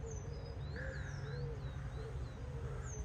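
Birds calling in a small English woodland path, with repeated high chirps and whistles over a steady low background rumble, moderately distant and continuous throughout.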